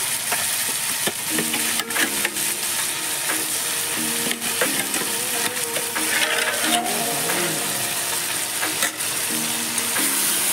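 Meat fries in hot oil with ginger paste, a dense steady sizzle with frequent clinks and scrapes of a spoon stirring in the pan and faint tonal background sounds, close and without speech.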